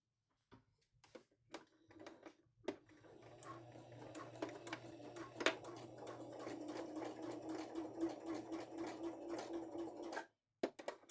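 A sewing machine top-stitches with an adjustable edge stitching presser foot, starting with a few separate clicks, then running in a steady, fast, quiet rhythmic whir for several seconds before stopping.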